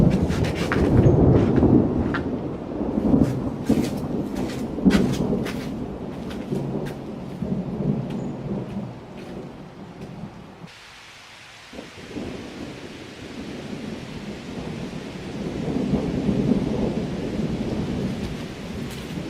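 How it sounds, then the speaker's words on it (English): A thunderstorm at a backpacking campsite: steady heavy rain drums on surfaces while deep rumbles of thunder roll through, with a short lull before the downpour resumes. "I hope y'all enjoy the storm."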